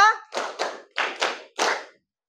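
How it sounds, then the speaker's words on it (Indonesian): A class of students claps together five times in a quick, even rhythm, sharp and fairly close, with a short voice just before the first clap. "tepuk 5"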